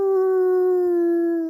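A long, steady, unwavering howl from Spike the pirate dog, loud and close, held alone for over a second; the howl is performed by a human voice imitating a dog.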